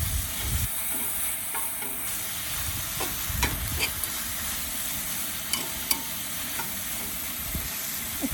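Halved tomatoes sauté in a camping pot for one-pot pasta, a steady low sizzle with occasional knocks and scrapes of a spoon against the metal.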